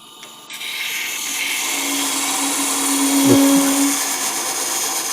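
A wood lathe spins steadily as the base of a long-stem goblet is parted off, giving a continuous whirring drone that a tool's cutting whine overlays briefly near the end.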